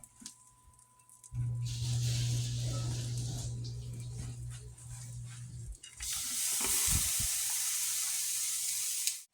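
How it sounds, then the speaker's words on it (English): A quesadilla frying in a pan, giving a steady close sizzle and hiss that shifts partway through as the pan is handled, with brief clatter and no talking. "Now we're going to go ahead and cook our control quesadilla the exact same way."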